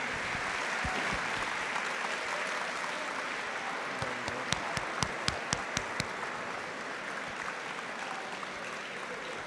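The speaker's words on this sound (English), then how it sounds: "give this gentleman a big round of applause" Applause from an audience at a charity car raffle drawing, a steady wash of clapping throughout with a brief burst of sharper, louder claps in the middle.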